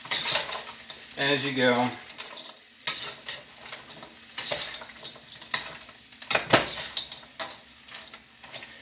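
A stir-fry that started frozen being flipped and mixed in a pan, irregular clattering scrapes of a utensil against metal over a steady sizzle, close by, with someone talking briefly at the start.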